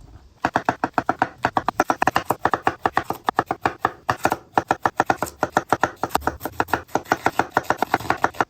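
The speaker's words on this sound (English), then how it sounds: "These mushrooms have already been washed. I'm just going to quarter those." Knife chopping washed mushrooms into quarters on a cutting board: a fast, steady run of sharp, close taps, a few seconds without a break, with no talk.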